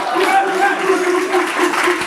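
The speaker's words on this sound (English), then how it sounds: "I want everyone to give a round of applause" Sustained crowd applause with cheering voices mixed in, steady and fairly loud throughout.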